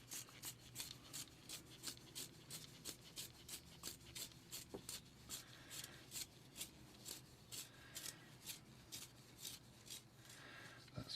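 Repeated rhythmic rasping strokes of a steep-angled blade cutting an arrow shaft to fit a pile for a longbow arrow, steady back-and-forth scraping close by with no talk.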